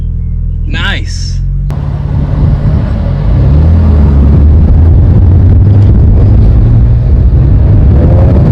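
A BMW fitted with a new full turbo exhaust drives past, a deep, loud engine rumble and drone building and holding steady, with wind buffeting the microphone and a brief voice near the start.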